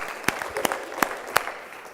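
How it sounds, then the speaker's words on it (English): Sparse audience applause follows a speaker's introduction at a small-business showcase talk: a handful of separate, fairly close claps spread over two seconds, thin rather than a full ovation. "Give her a round of applause."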